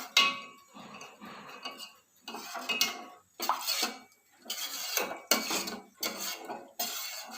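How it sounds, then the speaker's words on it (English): A spoon stirs and scrapes caramel remnants into milk in a pot, giving repeated clinking metal scrapes in uneven bursts separated by short quiet gaps, close and fairly quiet. "We're just going to gently stir in and scrape over the caramel remnants to help it mix into the milk"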